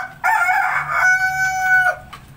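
A single loud Cemani rooster crow rings out close by, a drawn-out cock-a-doodle-doo lasting about two seconds.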